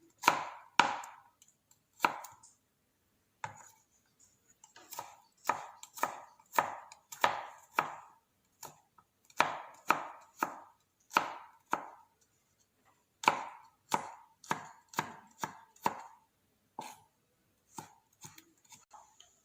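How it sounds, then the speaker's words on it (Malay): A knife finely slicing garlic on a cutting board, with rapid close chopping taps in bursts separated by short pauses, and no voice. "Bawang putih pun dihiris halus seperti ini."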